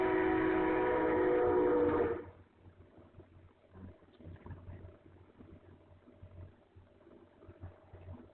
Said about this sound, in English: I should mute myself because it's stupid train.